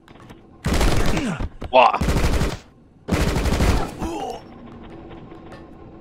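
Rapid bursts of gunfire in the video game Rocketbirds, loud and dense for about a second each in two main volleys, with a brief voiced exclamation between them and a quieter tail afterward.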